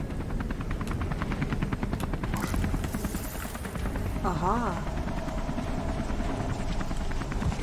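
A helicopter hovers in the video game Beyond Two Souls, its rotor thudding in a steady rapid beat that fills the scene under a brief spoken interjection, with a short rising and falling tone midway.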